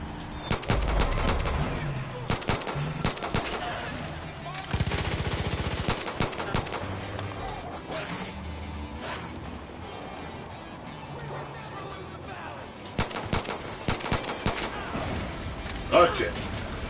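Video game gunfire rattles in bursts and single shots, some rapid and machine-gun-like, with loud impacts scattered throughout and someone talking over the action.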